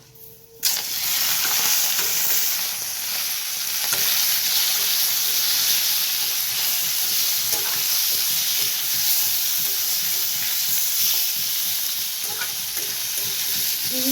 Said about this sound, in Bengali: এবার এর মধ্যে আমি চিংড়ি মাছ যে আমি সব রেখেছিলাম নুন হলুদ দিয়ে এটাকে আমি কড়ার মধ্যে একটু ভেজে নেবো